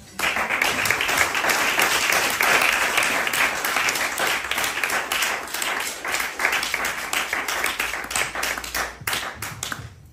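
A church congregation applauding, with dense sustained clapping that holds strong for about nine seconds before thinning out near the end.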